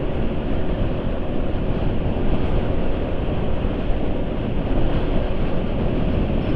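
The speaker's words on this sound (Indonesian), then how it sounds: "Jadi suara mesin ya kalau dipakai kalem nggak akan kasar-kasar banget" A running scooter engine hums with a dense, continuous rumble and wind-like roar, unchanging in loudness throughout, after a Repsol MXR3 oil change.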